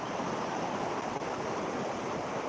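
Floodwater after heavy rain rushes past in a broad, constant roar like a stream or waterfall, steady and moderately loud, with no one talking.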